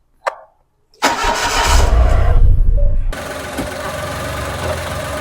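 A car engine cranks and starts with a short burst, then revs loudly before settling into a steady idle as a wheel spins freely underneath, heard close up with no talking.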